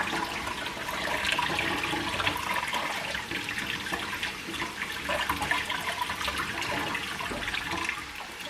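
Warm or hot water runs steadily from a tap to rinse a large batch of about 600 grams of rice, a constant rushing splash with no voices.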